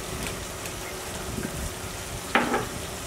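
Nut paste for morog polao drops into a hot pan, giving a steady soft sizzle of frying with a brief sharp scrape or clatter near the end.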